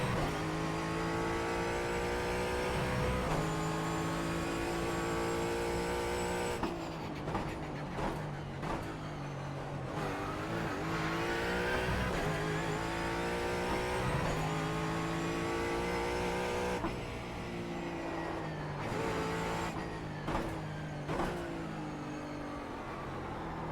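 A Ford Mustang GT4 in the iRacing sim on the St. Petersburg street circuit, its engine loud and continuous as it revs up and down through gears and corners, with rising and falling pitch sweeps and brief lifts off the throttle.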